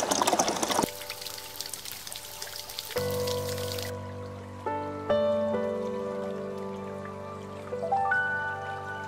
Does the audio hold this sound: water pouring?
yes